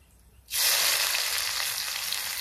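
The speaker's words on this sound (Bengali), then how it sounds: "গরম তেলে আগে শুকনা লঙ্কা দুটো দিই। একটু ভাজা হয়েছে, এখন জিরে গরম মশলা দিব। ফোড়নের এগুলো পুড়ে গেছে, এখন পেঁয়াজ কুচি দেব।" Chopped onions hit hot oil already seasoned with dried red chillies, cumin and garam masala, for a mutton head curry; after a brief quiet moment a loud, steady sizzle bursts up close and keeps crackling.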